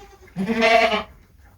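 A goat bleats once at feeding time on an off-grid homestead, a single close, loud, nasal cry lasting under a second.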